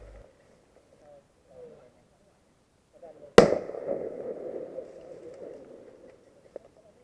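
An airsoft grenade goes off in a sharp, loud bang, bursting out suddenly in an otherwise quiet outdoor setting, followed by a few seconds of rustling and scattered noise.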